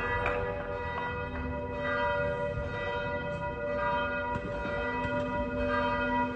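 A church bell rings continuously and fairly loudly during an Italian 15 August festival's bell dance, its steady tolling carrying through a dense, noisy outdoor background with no talk.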